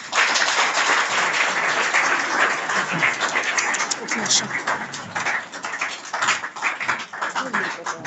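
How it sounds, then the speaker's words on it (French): Audience applause at a human rights day celebration, dense clapping that starts strong and gradually thins into scattered claps toward the end, with voices mixed in. "Est-ce que je peux encore entendre vos applaudissements?"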